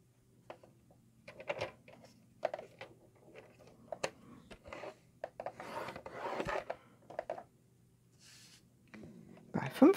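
Paper being scored along fold lines with a scoring tool for a flat Easter box, giving short scraping strokes in repeated bursts, close and moderately loud, with a voice speaking at times.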